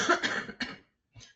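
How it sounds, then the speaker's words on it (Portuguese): A coughing fit held back during a Portuguese-language presentation: a burst of close, harsh coughs in quick succession, a brief pause, then one softer throat sound after a moment of silence. "estava aqui a tentar evitar um ataque de tosse"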